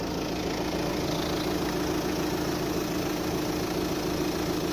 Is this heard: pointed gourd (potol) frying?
no